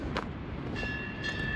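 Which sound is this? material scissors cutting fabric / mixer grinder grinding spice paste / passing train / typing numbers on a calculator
passing train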